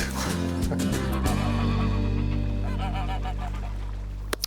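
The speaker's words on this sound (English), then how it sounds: "You'll be living with the geese, dear." Geese at a Shropshire country property honk in a loud, close run of repeated calls, with a droning background beneath them.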